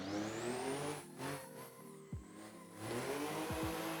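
A car's engine in Assetto Corsa revs and drops while drifting, rising and falling pitch under full throttle with brief tire squeals, moderately loud and steady.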